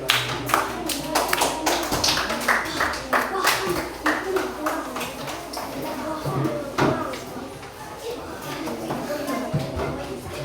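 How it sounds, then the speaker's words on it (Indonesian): A classroom claps loudly for two student groups after a peer-teaching presentation, a dense burst of many hands that starts at full strength and holds steady. A teacher's voice speaks over the applause. "Tepuk tangan sekali lagi untuk kelompok 1 dan 2."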